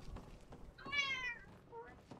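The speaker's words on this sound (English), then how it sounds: "Oh, okay, kitten." A cat meows in the video game Skyrim, a single clear drawn-out meow followed by a shorter, softer one, close and alone against low background noise.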